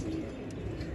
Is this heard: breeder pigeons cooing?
yes